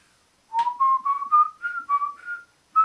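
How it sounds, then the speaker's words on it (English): A man whistles the opening phrase of Hall of the Mountain King alone, a short run of clear rising notes repeated in a quick, creepy melody, close and distinct. "I'd start whistling Hall of the Mountain King."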